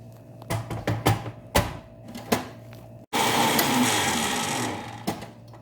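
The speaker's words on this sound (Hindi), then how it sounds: "सबसे पहले हमने इसको ब्लेंड करना है।" Electric blender whirring through pancake batter made with baking powder, loud and continuous from about three seconds on, after a run of short clicks and clatters beforehand.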